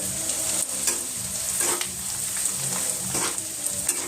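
Ground black pepper, turmeric, chili powder and salt sizzle steadily in a hot pan, with a few scraping stirs and soft clinks over the constant fry hiss.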